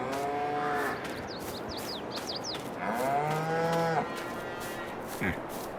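Cows moo in the video game Farming Simulator 22. Two long, drawn-out calls sound close and fairly loud over a steady ambient bed, with faint high chirps and a short knock near the end.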